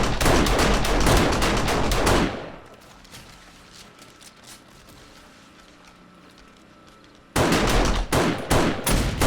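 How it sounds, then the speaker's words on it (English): Pistol shots in the survival video game 7 Days to Die, loud dense bursts of rapid gunfire for about two seconds, a quieter lull, then another loud volley near the end. "Damn, that pistol is weird."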